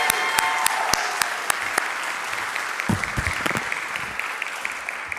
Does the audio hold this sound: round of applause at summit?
yes